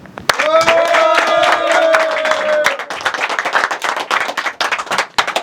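Audience clapping to welcome a stand-up comedian on stage, with a sustained voice or tone ringing over the first half, then scattered sharp claps thinning out toward the end.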